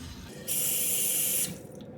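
Water from a tap runs into a pot for Korean hangover soup, a single steady hissing rush lasting about a second that starts and stops abruptly, close and clear with no talking.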